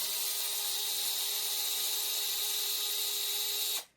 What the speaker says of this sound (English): I'm using a drill.